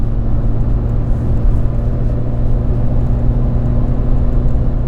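A Fiat Cinquecento Trofeo replica driving at speed, its engine giving a loud, steady droning rumble with constant road noise throughout, close and unbroken.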